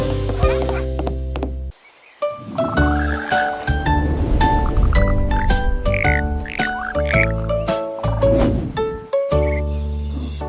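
Loud, croaking calls repeat in rhythmic bursts with tonal, chirpy notes between them, briefly dropping out twice before resuming, with no voices.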